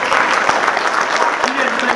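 Audience applauds at a country music show at the Glass City Opry, steady dense clapping filling the whole stretch at close range, with a few stray voices and a brief tonal whoop near the end.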